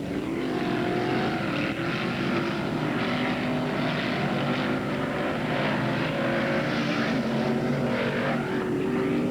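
Late model stock cars roar around a speedway track in a steady, dense drone of engines, with tones rising and falling as the pack passes, continuous and moderately distant, with no talk heard.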